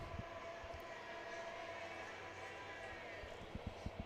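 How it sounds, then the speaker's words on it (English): Train passing near a high school softball field in Amherst, a low distant rumble under outdoor ambience with a few sharp knocks toward the end. "As the 447 train rolls by."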